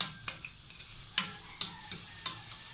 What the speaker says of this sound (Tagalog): Lagay na yung bawang at medyo papulay ng konti.